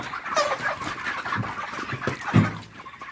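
Broiler chickens on a poultry farm cluck steadily in a close, busy chorus, with a louder burst of clucking near the end and no talking over them.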